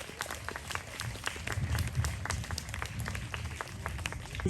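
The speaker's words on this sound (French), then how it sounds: "merci Muscat, on peut l'applaudir" A small outdoor crowd on a Brittany holiday activity applauds after a working dog named Muscat finishes, light scattered clapping over a low murmur and rustling background.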